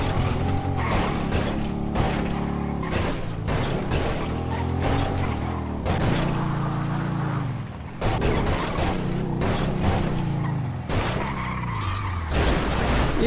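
In GTA, a Honda Hornet motorcycle's tyres skid and screech in repeated bursts across a harsh, loud engine roar, with short gaps between the slides.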